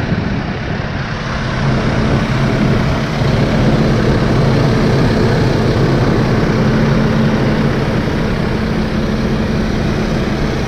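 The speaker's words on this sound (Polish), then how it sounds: "Jeszcze nagram wam dźwięk tego ciągnika." A Kubota M7151 Premium tractor engine runs continuously with a loud, steady low rumble and drone throughout, with no talk over it.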